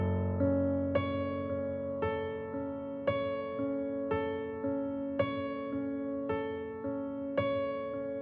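Solo piano playing with both hands: a repeating left-hand chord pattern struck roughly once a second under a steady right-hand figure, clear and close with no talk.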